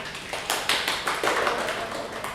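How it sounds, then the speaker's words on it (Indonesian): Students in a classroom clapping together, a short steady burst of close hand claps with uneven rhythm lasting a couple of seconds. "Tepuk tangan dong"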